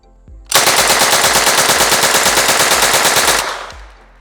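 An MP40 open-bolt submachine gun fires one long, loud, rapid full-auto burst from a 25-round magazine at an outdoor range, steady shots running about three seconds before ringing off.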